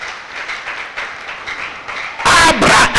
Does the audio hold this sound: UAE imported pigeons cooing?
no